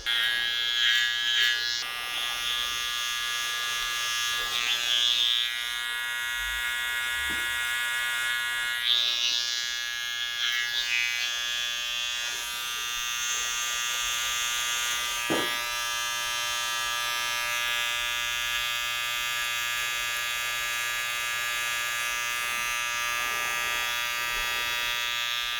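Electric hair clippers trim the side of curly hair with a steady, close, high-pitched buzz that holds for the whole stretch, with small shifts as the blades move and no speech.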